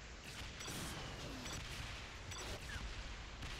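Missiles explode against a tank in Saints Row: The Third, a continuous barrage of rumbling blasts and crackling booms, dense and fairly quiet throughout.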